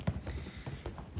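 Hooves of a gaited Tennessee Walking Horse clop on the ground at a horse farm, several soft, muffled beats in an even rhythm, close by and heard alone.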